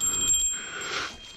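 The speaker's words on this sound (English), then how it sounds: "Don't make me ring my bell." A bicycle bell on a 2022 Specialized Levo e-bike gives a few quick, bright dings out on a trail among cows, fairly faint against soft outdoor background noise.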